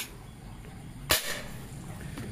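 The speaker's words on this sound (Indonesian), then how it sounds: "Oke, tembakan kelima" A single sharp gunshot is fired during a pressure test, one sudden crack standing out from a quiet background, with a brief fading tail afterwards.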